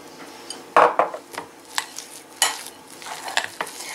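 A filling for lavash rolls with sausage and cheese being mixed in a bowl, a utensil clinking and scraping in an irregular run of close, sharp strokes with nothing else heard.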